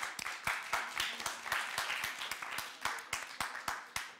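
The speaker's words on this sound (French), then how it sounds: "ça mérite des applaudissements s'il vous plaît" A studio audience claps for the teams on a television quiz show, with brisk, distinct hand claps in an uneven rhythm, moderately close and steady, with no talk over them.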